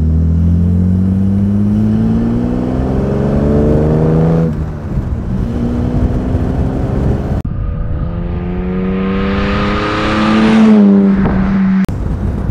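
A 1959 Jaguar SS 100 recreation, a prewar-style sports car, driving near Lake Simsee; its engine drones loud and close, rising in pitch through gears with repeated revving climbs and shifts, no talk over it.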